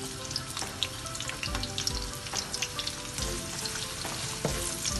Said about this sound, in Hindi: अब इसमें मैं सबसे पहले ओनियन डालूंगी और इनको ब्राउन होने तक पकाऊंगी।